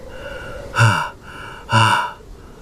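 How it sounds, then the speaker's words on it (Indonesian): Two heavy, rasping breaths, each a loud drawn-in gasp about a second apart, close by over a quiet low hum. "Suara napas berat menggema dari bawah"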